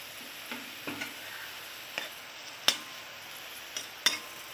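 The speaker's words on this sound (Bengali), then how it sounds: "এবার আমি দিয়ে দেবো কেটে রাখা পেঁয়াজ টুকরো করে।" Chopped onions frying in hot oil in a pan, with a faint quiet sizzle under scattered sharp clicks and taps of a utensil against the pan.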